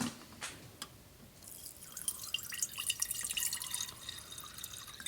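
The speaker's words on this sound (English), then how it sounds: "So now we're going to filter it and we're just going to pour it through a simple sieve." Coffee-infused whiskey is poured through a simple sieve, starting with a few distinct drips and building into a fuller, trickling patter of liquid falling through the mesh, close and moderately loud, with no talking.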